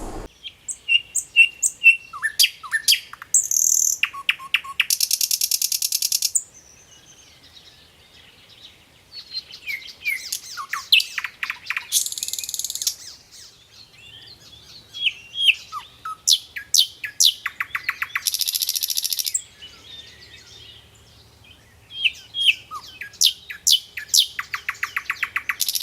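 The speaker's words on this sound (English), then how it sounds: "there is one more sound which is bird songs" Bird songs sound alone in clear, close bursts of bright rhythmic chirps and trills, repeated phrase after phrase with short gaps.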